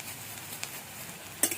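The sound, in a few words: onions and ginger sizzling while frying in a pan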